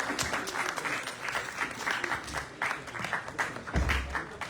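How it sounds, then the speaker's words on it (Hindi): An audience at a theatre play's curtain call claps steadily for the cast, a moderately loud, continuous patter of applause throughout. "सभी के लिए तालियां बजाइए"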